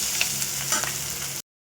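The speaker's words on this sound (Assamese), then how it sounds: "মাছৰ তেল ভাজি আছোঁ" Oil left from frying fish sizzles in a pan with a short burst of bright, close hissing and crackling, then cuts off abruptly.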